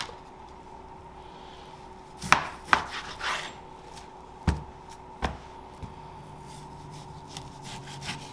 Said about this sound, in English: slice the fat off, and then slice it into thin cuts